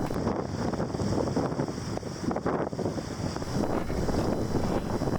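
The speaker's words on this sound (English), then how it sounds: "So up on deck, these winds are continuing to build." Strong wind of around 20–25 knots roaring across a sailboat deck, continuous gusty buffeting on the microphone with sea and rigging noise underneath, close and loud throughout.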